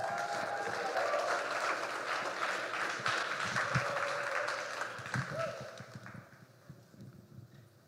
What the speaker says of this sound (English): If we can give him a huge round of applause